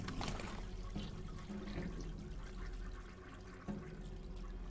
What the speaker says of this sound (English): Bad toilet. Flush.